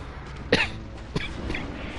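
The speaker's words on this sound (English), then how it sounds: "I get this kind of cough where it's just one cough leads into the next" A person coughs in two separate bursts, a sharp loud cough followed about half a second later by a smaller one, close to the mic with faint room noise between.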